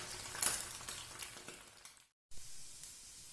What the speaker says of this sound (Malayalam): അപ്പോൾ നല്ലതായിട്ട് എണ്ണ ചൂടായി കഴിയുമ്പോൾ നമുക്ക് ആദ്യം മുട്ട ഒന്ന് വറുത്ത് മാറ്റാം